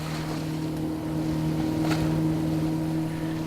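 A Zodiac inflatable boat's outboard motor drones steadily on a fjord, a low continuous hum mixed with wind noise buffeting the microphone, moderately close with no voices.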